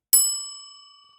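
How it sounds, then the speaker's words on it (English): A single bell ding fired from a Stream Deck button as a sound effect: a sharp, bright metallic strike that rings on and decays slowly over about a second, alone and clear. "bell"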